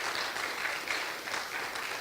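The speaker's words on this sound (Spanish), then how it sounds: "Démosle una ofrenda de palmas al Señor," Church congregation applauding during a Spanish-language sermon, a steady wash of many hands clapping throughout, fairly dense and moderately loud.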